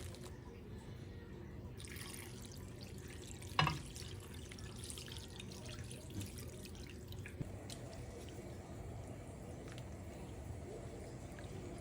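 Pint of stock poured into a cream cheese mixture for shrimp and scallop chowder, a steady liquid pour and trickle lasting several seconds, close and moderately quiet, with a brief clunk early on.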